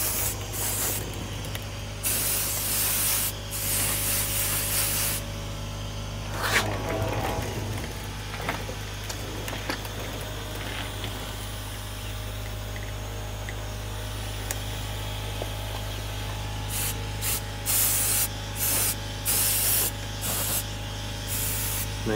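Lubricant sprayed from an aerosol can onto the screws of a Traxxas X-Maxx RC truck, a loud close hiss in repeated long and short bursts, broken by brief pauses and faint mechanical clicks.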